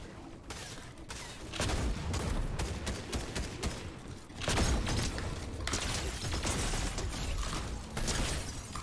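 Gunfire from a 12-gauge shotgun in Fortnite: loud, dense blasts with mechanical clatter and racking sounds, continuing in heavy bursts with a brief lull in the middle.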